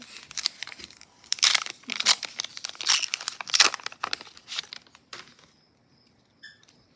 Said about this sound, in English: let's rip this pack open